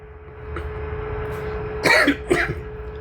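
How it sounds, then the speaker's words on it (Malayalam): A couple of short throat-clearing coughs, close by, over a steady low hum and faint background noise. "ചെറിയൊരു ചുമ"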